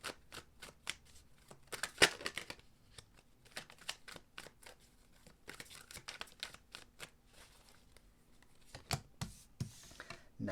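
A deck of tarot cards is shuffled and handled up close, with rapid crisp riffling bursts and soft slides and taps that come and go in quick clusters, at low volume.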